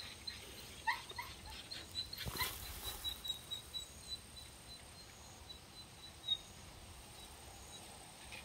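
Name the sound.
dog, a breeding female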